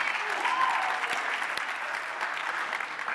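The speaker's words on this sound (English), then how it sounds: "yeah, that's worth clapping for" Audience applause at a political conference gathering, a sustained, even wash of many hands clapping in a hall, loud and continuous, with a brief voice or whistle rising near the start.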